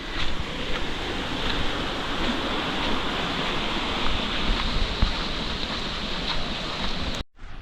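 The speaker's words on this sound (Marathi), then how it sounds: "पाण्याचा खलखल आवाज ऐकताय काय" Water gurgles and splashes steadily from a welling spring in a Konkan village, a continuous dense rushing wash close to the microphone that cuts off abruptly near the end.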